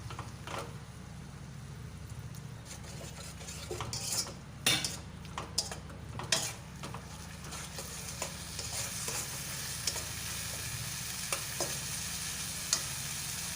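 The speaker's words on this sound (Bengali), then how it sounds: "সামান্য একটু জল দিয়ে মশলাটা ভালো করে আমি পাকিয়ে নেব।" A spice paste with a little water, including cumin powder, is stirred in a pan with steady scraping and clinking of a utensil over a soft sizzle, with denser bursts of stirring midway and no talking.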